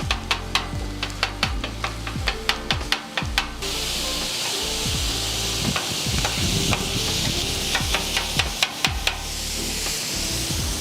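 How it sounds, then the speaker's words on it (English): Rapid metallic clacks of a spatula chopping turkey on a hot Blaze griddle over a steady sizzle, coming in quick rhythmic bursts with a short break. "I'm gonna go ahead and take this right here, and I just start chopping it up"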